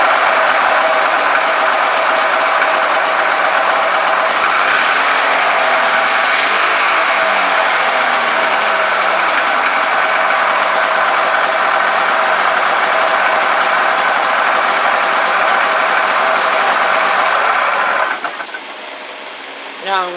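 A small engine with spark plug trouble, suspected stator fault and no working battery, runs loud and steady with a buzzing, rattling drone for most of the stretch before cutting out near the end.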